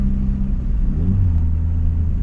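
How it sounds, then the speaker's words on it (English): A car being driven, its engine a steady low rumble with a brief rise in revs near the middle, loud and continuous throughout with no talking. "But I still love driving this car"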